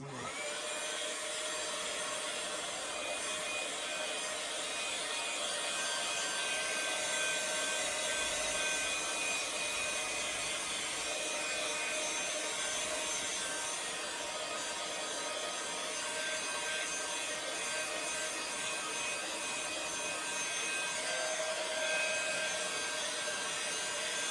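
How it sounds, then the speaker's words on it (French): A steady, continuous whir of a hair dryer drying watercolor paint, constant in pitch and loudness throughout, fairly close with no talking. "Je vais m'équiper d'un sèche-cheveux pour l'aquarelle parce que ça chauffe trop le heat gun"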